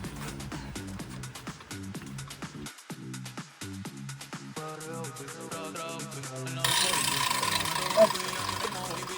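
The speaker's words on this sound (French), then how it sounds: "J'ai prévu une lime pour ébavurer." A file rasping over the freshly cut end of a pipe to deburr it, in repeated short scraping strokes up close, with louder, rougher scraping toward the end.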